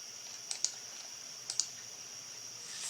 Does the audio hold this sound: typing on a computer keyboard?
yes